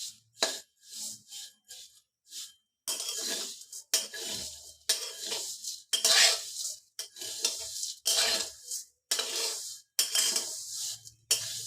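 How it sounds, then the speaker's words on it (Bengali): Vermicelli being fried and stirred in a pan, with a utensil scraping and clinking against the metal in repeated bursts of stirring, close and fairly loud, with short pauses between strokes. "দেখুন আমি লাল লাল করে ভেজে নিচ্ছি।"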